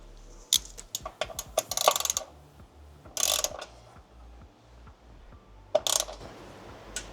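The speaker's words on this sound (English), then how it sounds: "I'm gonna go ahead and reinsert our brand new drain plug and torque it down to" A ratchet tightens a new transmission drain plug on a BMW M5 in a few short, sharp bursts of clicking separated by quiet gaps, close and moderately loud.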